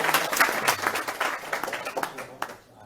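Audience clapping at an evening devotional house program in Rijswijk, Holland, a small group's uneven, fairly close claps with talk underneath, tapering off near the end.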